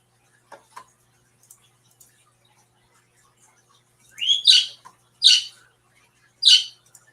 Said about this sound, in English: There's a pretty bird.